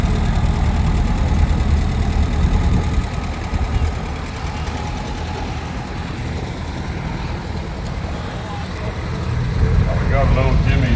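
An old Detroit engine powers a 1955 Super 99 tractor in a summer show parade, giving a loud, steady, rough low rumble that holds throughout and swells slightly near the end.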